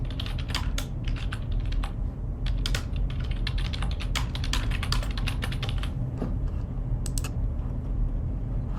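Steady typing on a computer keyboard while entering a comment, rapid irregular key clicks close up, continuing throughout with no speech.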